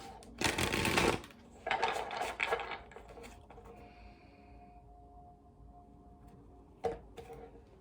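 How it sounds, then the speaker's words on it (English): Tarot cards riffled and shuffled by hand during a reading, two loud, papery bursts of rapid flutter in the first few seconds, then a quieter stretch with a faint tone and a brief final snap of cards. "that was a very terrible shuffle. Hold on. We're going to do one more."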